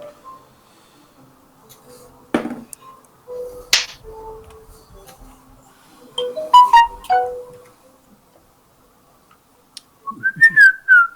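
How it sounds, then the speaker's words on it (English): Discord message notification sounds play in bursts over a mostly quiet background: short bright pings and clicks are scattered through it, followed by a clustered run of chirpy tones and a final rising, wavering chime. "It's just a Discord sound effect when you guys send a message every now and then"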